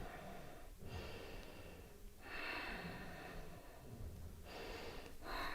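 Heavy rhythmic breathing during a yoga flow, several long audible inhales and exhales in succession with brief gaps between them, close and breathy with no talk.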